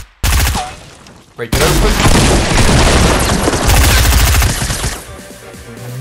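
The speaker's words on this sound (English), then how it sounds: "It's a shotgun. Perfect time to use it, right?" A legendary shotgun firing in Fortnite: Battle Royale, with loud booming blasts and dense combat noise filling most of the clip, under brief speech.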